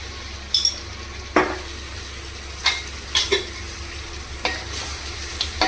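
A spoon stirs spiced kadai biryani with garam masala, making a handful of scattered metallic scrapes and clinks against the pan over a soft background hum, close by.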